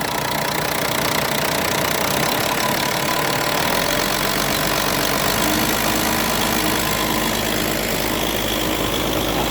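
A farm engine, used for shrimp-pond work, starts up and then runs steadily with the throttle locked, a loud continuous idling drone with a knocking undertone that holds unchanged for the whole stretch.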